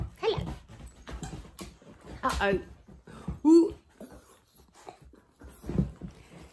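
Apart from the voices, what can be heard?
dogs barking and whimpering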